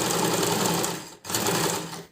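A sewing machine runs in two fast continuous bursts while stitching a zipper through thick fabric, with a brief pause between them, close and steady, no voices.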